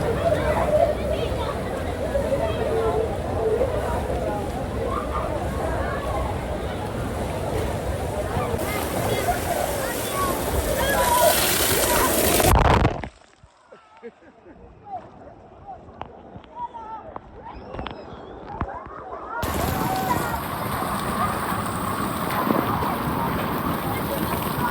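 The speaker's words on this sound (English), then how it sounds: "I love these waves. These are the most fun part." Water splashing and rushing from waves on an amusement park water ride at Cedar Point, a loud continuous wash with wind noise and voices, dropping away briefly before the roar returns.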